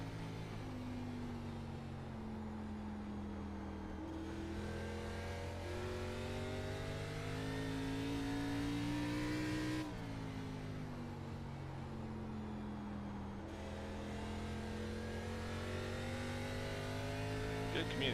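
A race car engine in an ARCA racing video game at North Wilkesboro drones steadily, its pitch climbing and dropping with shifts and throttle changes across the whole stretch.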